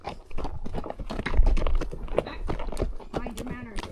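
A horse's hooves clip-clop with steady irregular knocks close by, mostly under people talking throughout.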